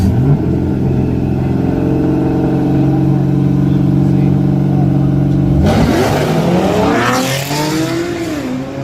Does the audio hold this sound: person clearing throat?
no